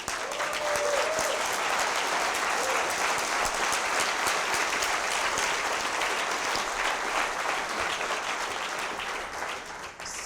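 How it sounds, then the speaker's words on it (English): An audience claps together for about ten seconds, a dense, even roar of applause that holds steady and then begins to thin at the very end. "That deserves a round of applause."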